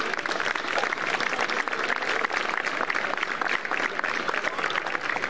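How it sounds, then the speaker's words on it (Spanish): Audience in Araúzo de Miel, Burgos, applauding a traditional folk dance group with dense, sustained clapping from a sizable crowd, steady and even throughout without a break. "Pido un fuerte aplauso para ellos"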